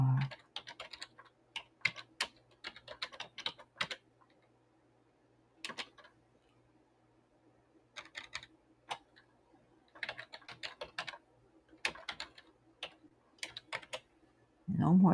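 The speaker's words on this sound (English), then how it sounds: "Okay, wait, I'm typing up." Quick bursts of typing clatter on a computer keyboard, clicks coming in irregular clusters with short pauses, close and fairly quiet over a low hum.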